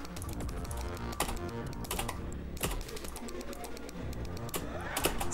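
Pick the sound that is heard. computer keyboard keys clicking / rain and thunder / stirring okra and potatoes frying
computer keyboard keys clicking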